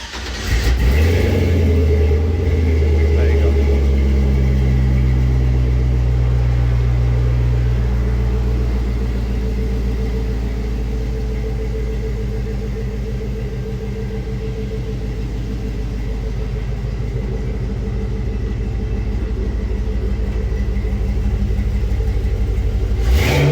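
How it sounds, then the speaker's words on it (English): A truck engine cranks and catches after the fuel pump primes, then settles into a loud, steady low rumble at idle, dipping slightly mid-way and swelling again near the end, with no talk. "I don't know if I showed you guys the truck starting, so I'll get it started."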